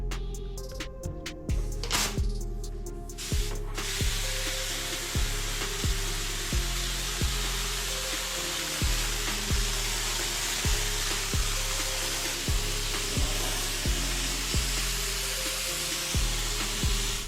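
Spray adhesive being sprayed onto a custom car kick panel makes a loud, steady hissing spray, broken by short regular pauses and clicks in a repeating rhythm.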